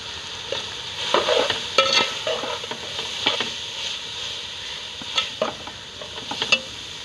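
Finely chopped cabbage tossed with carrots and chicken in a hot pan for Chinese rice, a soft steady sizzle broken by repeated scraping and clinking stirs of a spatula.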